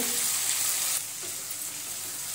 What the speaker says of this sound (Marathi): इथे आपण शिमला मिरची मीडियम आकाराची आपण कापून घेतलेली आहे. तीही त्यामध्ये परतून घेऊ.